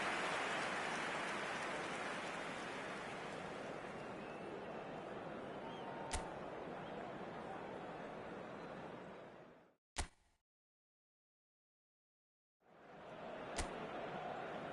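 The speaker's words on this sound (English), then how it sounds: "The rain is tumbling down here, you can see it against the floodlights." Steady broadband hiss of heavy rain pouring over a floodlit stadium in the eFootball video game, sustained for about ten seconds with a couple of sharp clicks, then cutting to silence before resuming.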